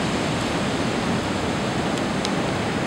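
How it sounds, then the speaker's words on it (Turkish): Storm-swollen sea surf rolls onto the beach at Çıralı near Kemer after flooding, a dense continuous roar of breaking waves with no talk. "Dalgalar hala devam ediyor."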